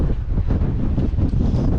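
Steady wind gusting across an open swing bridge, a dense continuous rumble and roar buffeting the microphone, loud and unbroken, with no voices.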